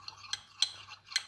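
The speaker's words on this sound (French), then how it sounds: "on délaye bien la maïzena" Soft scraping of a utensil against a bowl while stirring cornstarch into cold milk, three light clinks spaced apart, quiet and close.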